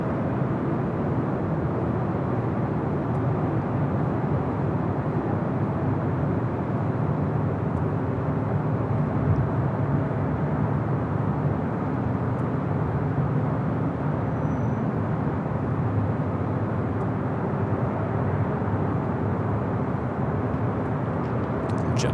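Boeing 747 arriving on the south side at LAX produces a steady, moderately loud jet engine roar, a constant broadband rumble that neither rises nor fades, with no voices.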